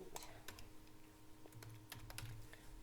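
Typing on a computer keyboard during vendor account setup: a quiet run of scattered clicky keystrokes, irregular in rhythm, heard close but faint.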